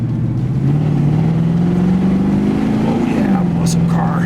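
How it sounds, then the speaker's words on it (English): A classic American muscle car engine revs up as the driver applies throttle, a loud, steady rising drone that climbs in pitch over a few seconds before easing back, heard close with faint background talk. "I think I'll give it a little gas here and see how she does."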